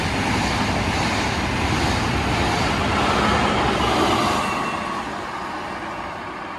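A train passes in Naples, a steady broadband rumble with clattering wheels that stays loud for about four seconds, then fades as it moves away; no voices.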